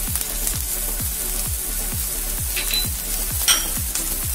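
Capsicum and other ingredients sauté in a pan with turmeric added, a steady sizzle under regular scraping strokes of a spoon stirring roughly twice a second, close and alone.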